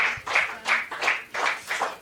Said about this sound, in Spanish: Dele ese aplauso al Rey de la Gloria en esta noche